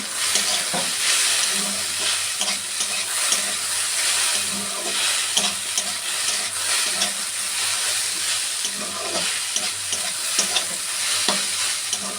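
Okra and potatoes fry in a pan with a constant hiss and sizzle, punctuated by scraping stirs, continuous and close with no talking.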